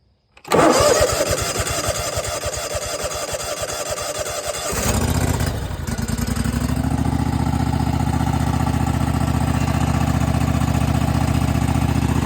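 A John Deere GT245 lawn tractor engine is started on choke after a float chamber gasket replacement. It cranks for several seconds, catches, then settles into a steady, close, loud idle that runs on alone.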